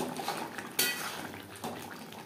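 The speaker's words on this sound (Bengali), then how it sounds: "গ্রেভির সাথে গরম মশলা পাউডার বেশ ভালো করে মিক্স করে দেব।" Utensil stirring garam masala powder into fish-head kalia gravy in a pan, with soft scraping and clinks of metal against cookware, one sharper clink near the start, quiet and close with no talk.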